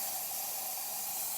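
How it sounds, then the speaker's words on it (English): Steam hisses steadily and loudly from a descaled Gaggia espresso machine, a continuous broadband rush held without break throughout. "you can see a bunch of steam coming out"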